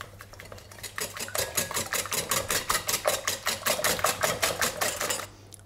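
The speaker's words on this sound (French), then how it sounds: "je vais rajouter le sucre et on va battre tout ça" Six eggs beaten with sugar in a bowl for a thyme crème caramel, a fast, steady rhythmic whisking of about twenty even strokes, close and loud, stopping abruptly at the end.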